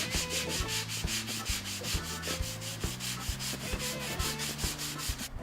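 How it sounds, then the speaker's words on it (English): Cured UV filler spray on a car body panel is hand-sanded flat with a 150 grit block, making loud, close, rhythmic rasping strokes in a quick, even back-and-forth pattern with no speech. "So I've got a block with some 150 on it. All I'm going to do is block it flat."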